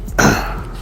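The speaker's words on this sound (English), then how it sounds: "I was coughing." A single short throaty cough in a courtroom, close and abrupt, with no talking.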